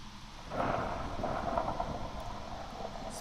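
Thunder from a lightning storm in a video game, a low rolling rumble that swells and lingers, with a soft wash of rain and wind underneath.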